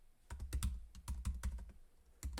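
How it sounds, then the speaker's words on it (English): Close, quiet keystrokes on a computer keyboard while writing SwiftUI code, coming in short irregular bursts of taps with brief pauses between clusters. "So I'm going to start typing in"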